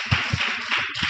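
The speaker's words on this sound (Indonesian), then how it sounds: "tepuk tangan buat vokasi" Applause from a workshop audience of students: a brief burst of scattered hand clapping, fairly close and moderately loud, with a few distinct claps standing out over the dense patter and no voices.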